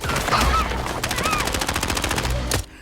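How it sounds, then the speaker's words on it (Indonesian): Rapid bursts of gunfire crackle through a loud, dense action film shootout, with repeated sharp shots over a rumbling background. "Sayangnya dalam insiden baku tembak kali ini, Donald harus terkena tembakan."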